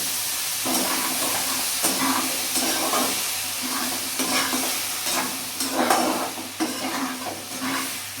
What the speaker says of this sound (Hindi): डंठल को डाल करके हम धीरे धीरे भूनेंगे।